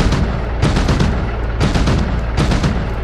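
Bursts of machine gun fire from an M1097 Avenger in the DCS World combat game, three loud rapid rattling volleys separated by short pauses, close and without talk.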